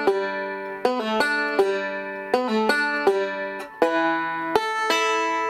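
Bluegrass banjo picking measures four and five of the tune Salt Creek, with crisp plucked notes, pull-offs and open-string fills in a clear, close, unaccompanied phrase of rhythmic rolls.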